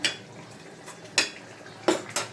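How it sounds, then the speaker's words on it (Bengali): Dried red chillies dry-roasting in a pan without oil give off a faint, quiet rustle, punctuated by four or five short, crisp clinks and scrapes of a spatula or utensil against the pan. "এবার শুকনো খোলায় আমি দুটো কাজ শুকনো লঙ্কা দিয়ে দিলাম এবার এটাকে ভাজবো তেল ছাড়া"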